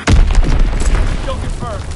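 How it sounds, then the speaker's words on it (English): An Azon bomb drops and explodes in Call of Duty: a loud, close, booming blast that hits hard at once and then rumbles down through a long, heavy low tail. "Dropping Azon bomb."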